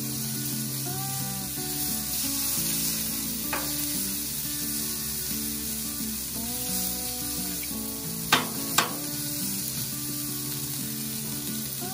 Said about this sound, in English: I've just got my coleslaw. I'm gonna dump on here.